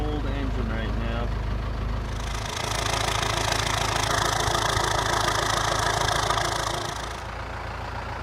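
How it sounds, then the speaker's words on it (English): A cold Cummins diesel truck engine idles after a cold start with a steady, loud knocking rumble, while someone talks over it throughout. "It is a cold engine right now."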